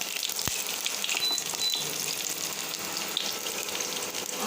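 Green chilies and garlic sizzle in hot oil in a pan, a steady bright frying hiss with a sharp pop early on and small spatters throughout.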